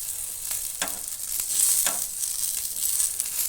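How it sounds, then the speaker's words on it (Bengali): Chicken shami kebabs fry in a hot pan with a steady, close sizzle, broken by a few soft scrapes and clicks as they are turned. No one speaks. "দিকটাও দু তিন মিনিট ভাজা হয়ে গেছে আবারও আমি এটা উল্টে দেবো"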